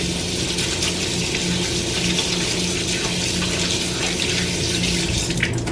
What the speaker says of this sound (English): I'm going to wash my hands, get the cheese off